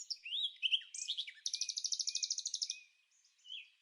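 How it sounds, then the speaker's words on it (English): A laughing gull on a Bahamian beach gives a run of high, rapid, evenly pulsed calls after a few shorter notes, faint and distant, with no voices. "That's the laughing gull, the prankster of the Caribbean sky."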